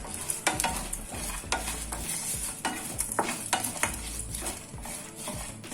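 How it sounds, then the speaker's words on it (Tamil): Dry ginger dry-roasting in a pan for masala tea, a steady crackle and scrape of a spoon stirring it with repeated sharp tapping strokes, close and alone with no talk. "இது அப்படியே நம்ம ஃப்ரை பண்ண போகிறோம்."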